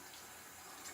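Water runs steadily from a bathtub faucet for rinsing, a faint, even hiss of flow lasting the whole moment with no voices.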